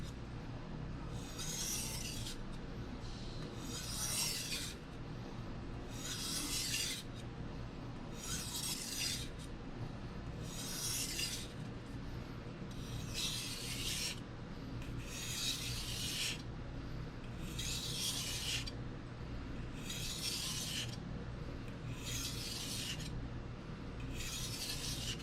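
A Dao Vua pipeline-steel nakiri knife is stroked across a sharpening surface in a faint, steady series of about a dozen evenly spaced rasping passes, with no talk.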